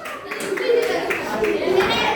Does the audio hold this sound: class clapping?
yes